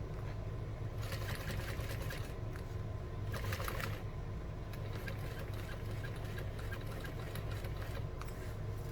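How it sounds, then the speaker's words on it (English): A sewing machine stitches straight across bag handles, its motor purring steadily at close range with a few sharper rattling bursts, faint and without talk. "we're going to sew right over them"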